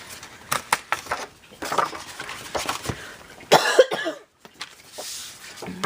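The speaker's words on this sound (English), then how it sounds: "Pardon my coughing." Several dry coughs come in short bursts with gaps between them, close to the microphone, along with faint clinking of small objects.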